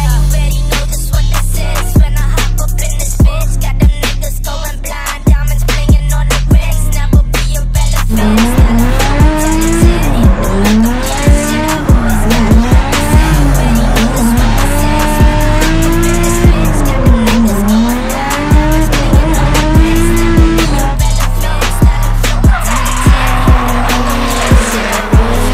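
Nissan Laurel C33 drift car on track, engine revving hard with sustained, loud tire squeal and skidding throughout, engine pitch rising and falling through repeated slides, with rhythmic gear-change bursts early on.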